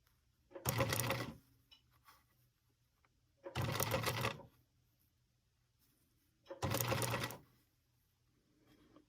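A sewing machine sews small curves on a quilt in three short, separate bursts of a couple of stitches each, spaced with quiet pauses between them.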